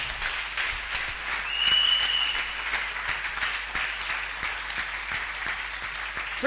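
A church congregation claps during a Sunday worship service: sustained, dense applause from many hands that swells briefly and then holds steady, heard mostly on its own without clear speech.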